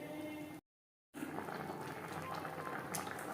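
Shol fish simmering in gravy with potato and cauliflower: a dense, steady bubbling hiss, close and moderately quiet, broken by a brief silent gap.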